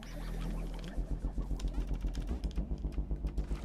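Firecracker going off in the video game Animal Well: after a low rumble, a long string of sharp, rapid pops crackles on in a steady rhythm, loud and close, with no talk.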